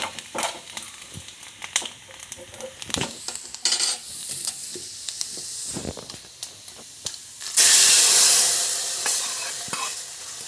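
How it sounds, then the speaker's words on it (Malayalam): Coconut pieces fry in hot ghee with crackling sizzles and scraping stirs, swelling into a loud, steady hiss toward the end. "തേങ്ങ കൊത്തി നെയ്യിൽ വറുത്തിടാമെന്ന് വിചാരിച്ചിട്ട്"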